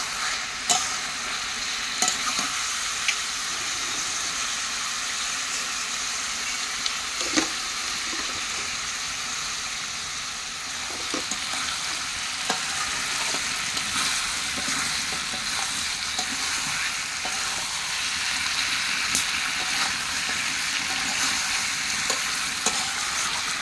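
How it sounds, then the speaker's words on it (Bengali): Onions and chilies sizzle steadily in a pan with chicken, a spatula scraping and stirring at irregular intervals over the constant frying hiss, with no voices. "এখন একটু নাড়াচাড়া করে পেঁয়াজ লঙ্কাগুলো একটু ভেজে ভালো করে তারপরে"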